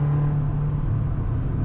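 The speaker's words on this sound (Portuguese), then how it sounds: "Se eu acelerar tudo, galera, ó, quer ver? Repare que o barulho vai mudar" A Chevrolet Astra engine held at full throttle on a highway, a steady low drone and hum with road rumble, continuous and fairly loud, with no talking.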